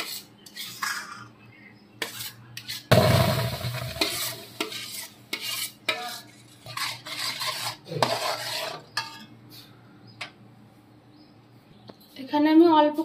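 Palm fruit pulp is stirred in a wok, with a spoon scraping and knocking against the metal in irregular strokes and a faint sizzle underneath, while a voice talks intermittently.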